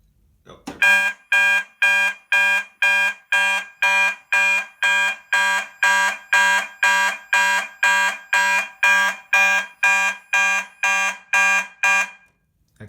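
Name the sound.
fire alarm set off by smoke on detector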